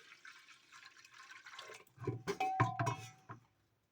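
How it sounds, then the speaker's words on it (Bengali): Water is poured into a pressure cooker in a home kitchen while lentils are being cooked, a soft splashing fill that builds over a few seconds and then stops, with no talking. "জল দিয়ে দিচ্ছি।"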